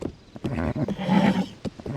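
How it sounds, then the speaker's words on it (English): A horse in The Legend of Zelda: Tears of the Kingdom snorts and whinnies in a loud, close burst of about two seconds, with a short bit of clopping from the animal. "Horse."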